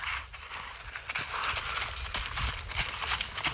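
A horse named Attila lopes near the handler, its hoofbeats coming as a quick, uneven run of thuds and clip-clops over steady background rumble, close and moderately loud throughout.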